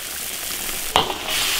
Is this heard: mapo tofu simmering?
yes